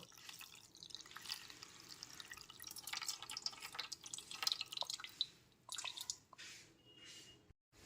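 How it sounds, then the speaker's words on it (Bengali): Cold water poured over hot cooked sago pearls in a strainer makes a soft, close trickling and dripping that swells unevenly, then thins to scattered drips and near silence at the end. "গরম অবস্থাতেই সমস্ত সাবুদানাগুলো একটা ছাঁকনিতে ঢেলে নেওয়ার পর এর মধ্যে ঠান্ডা জল দিয়ে দিচ্ছি"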